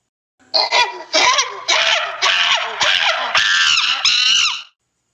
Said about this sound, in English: Let's listen to the sound of a monkey.